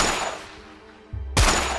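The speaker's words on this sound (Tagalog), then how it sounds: "At walang tigil na pinaputokan si Mang Sebio." Gunfire sound effect of a gun fired repeatedly: a loud, close burst of rough noise fades into a low hum, then a second sharp, heavy blast lands with a booming low thump.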